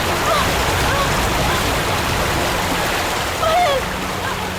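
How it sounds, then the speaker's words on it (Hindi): A waterfall roars as a steady, loud broadband rush of falling water filling the whole clip, with faint voices and a brief swell of splashing near the end. "सामने देखो, वाटरफॉल कितना सुंदर है"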